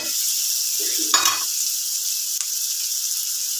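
Onions and garlic fry in a hot pan with a constant close sizzle, broken by a short burst of bubbling and stirring as sauce is poured in.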